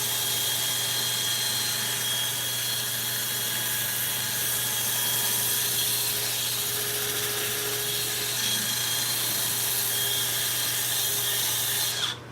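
Steady, loud whirring drone of a lathe spinning a wooden plate while it is sanded smooth, continuous and unbroken until it cuts off at the very end.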